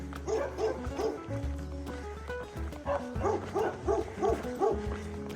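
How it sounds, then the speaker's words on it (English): Dogs in a village along the Dragonte variant of the Camino Francés bark in repeated, overlapping bursts, fairly close and loud over a steady outdoor background. "Everybody got a dog here, haven't they?"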